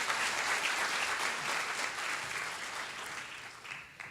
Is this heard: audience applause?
yes